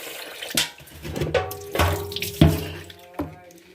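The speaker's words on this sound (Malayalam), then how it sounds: "ഞാൻ വെള്ളം നിറയ്ക്കുവാണ് കേട്ടോ" Tap water runs into a vessel being filled in a home kitchen, a steady splashing gush with several louder bursts and shifts as the stream and vessel move.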